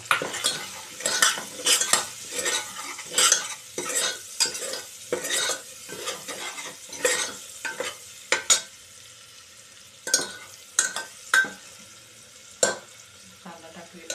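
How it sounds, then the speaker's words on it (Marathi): Ginger, garlic and onion frying over high flame in a pan, with repeated clattering scrapes of a spoon stirring against metal in an uneven rhythm over a light sizzle, close up with no talk. "फास्ट गॅसवर आपण ते आलं लसूण परतून झालं की कांदा टाकणार आहोत"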